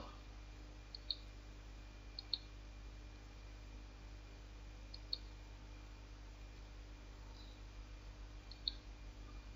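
A computer mouse gives single, faint, crisp clicks spaced a few seconds apart, about five in all, over a low steady electrical hum and hiss.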